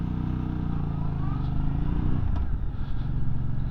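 An MBP C1002V motorcycle engine drones steadily while riding, a close, continuous low hum with a slight pitch shift partway through, wind noise blending in, no talking.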